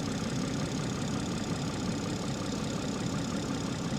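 A twin-turbo BMW engine idles steadily, a low continuous rumble with a faint rhythmic knock, moderately quiet and without talk.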